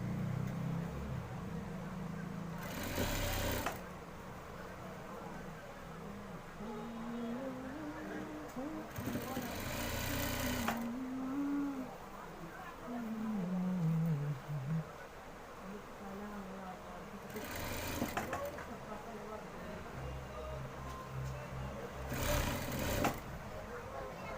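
Sewing machine stitching the round neckline of a panjabi, running in several short bursts of rapid mechanical chatter over a steady room hum while a voice talks throughout.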